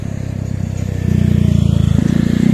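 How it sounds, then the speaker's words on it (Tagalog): A motorcycle passes along a rural barangay road near a national road, its engine a close, pulsing low putter that grows louder and shifts pitch as it goes by. "Ang daming dumadaan dito kasi from National Road malapit lang."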